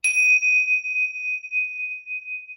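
A tingsha cymbal is struck once and rings out in a single clear, sustained metallic tone that decays slowly, heard alone and close.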